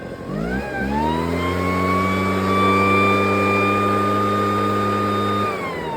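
A backpack-mounted two-stroke engine revs up and then holds a loud, steady high-RPM whine at full throttle, dropping off briefly at the end, with no talking.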